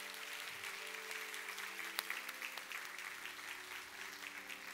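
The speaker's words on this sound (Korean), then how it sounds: "우리 박수해 주시기 바랍니다." Congregation applause in a church service, a steady, faint wash of clapping from a seated crowd that holds evenly throughout without speech over it.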